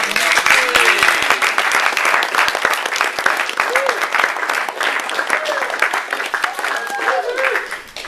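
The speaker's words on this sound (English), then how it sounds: "Let's have a round of applause for our" A wedding crowd breaks into steady, sustained applause for the couple, loud and dense clapping with a few cheers and voices mixed in throughout.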